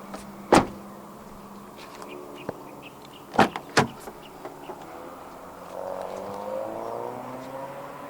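Electric power window motor on a 2026 Proton Saga 1.5 Premium, whirring steadily for a couple of seconds near the end, preceded by a few sharp clicks and knocks inside the quiet cabin.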